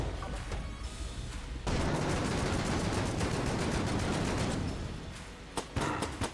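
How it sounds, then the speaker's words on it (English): A serious cannon firing in the video game Mod the Gungeon: a dense, loud barrage of rapid booming shots that holds steady for several seconds, then breaks into a few separate blasts. "I will fire 1 serious cannon at the beginning of the heart wave"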